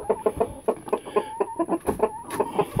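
A rooster grumbles close by, a steady series of low, throaty clucks and murmurs with no pauses, no crowing and no talk.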